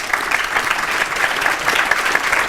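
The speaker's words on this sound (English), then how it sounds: "And perhaps a round of applause for the conference." An audience at a scientific panel debate on kinetoplastid disease research applauds steadily and loudly for the whole stretch, a dense even patter of many hands.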